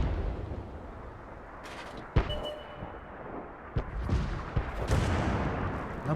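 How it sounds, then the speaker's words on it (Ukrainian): A Birch Gun self-propelled artillery piece fires in a tank battle game on the Mannerheim Line map, with a few sharp, close booms spaced a second or two apart over a low rumbling background. "хотілося побачити, наскільки далеко стріляє у нас ця наша березова гармата"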